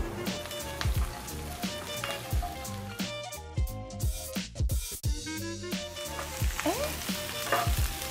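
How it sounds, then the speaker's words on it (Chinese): Prepared ingredients stir-frying in hot oil in a wok, a close, crackling sizzle broken by repeated metallic spatula scrapes and clanks at an uneven rhythm, no speech. "炒锅放油，将预先备好的料炒香"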